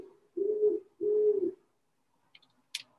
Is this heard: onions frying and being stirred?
no